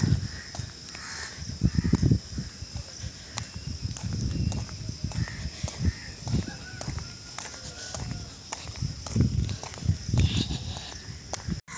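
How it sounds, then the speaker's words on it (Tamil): Crows cawing repeatedly during an early morning walk after overnight rain, harsh calls at moderate distance with uneven gaps, over soft footsteps. "காக்காய்கள் மட்டும்தான் கத்திக்கிட்டு இருக்கு."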